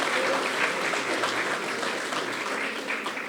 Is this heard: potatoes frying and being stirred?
no